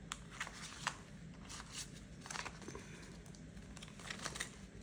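Paper budget envelopes are handled up close, with soft crinkling, rustling and shuffling that comes in small irregular bursts over a quiet background hiss.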